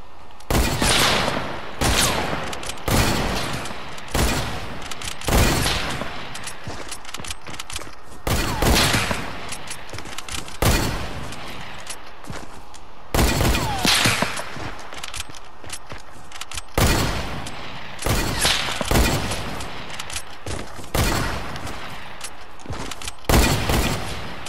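Gunfire in the video game Fortnite, loud bursts of rapid shots fired again and again at a steady pace, with short gaps between them.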